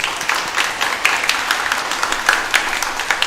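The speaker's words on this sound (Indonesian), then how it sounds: "Tepuk tangan buat mereka" A church congregation at a Sunday Mass claps for the children dressed as little priests, nuns, bishops and cardinals, a steady roomful of hand claps kept up for a few seconds.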